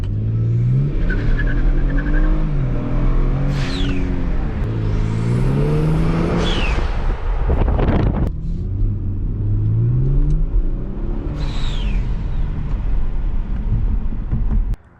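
A Kia Stinger engine with a dual cone cold air intake revving up repeatedly through rising gears, loud and close, with sharp intake whooshes and brief drops between pulls.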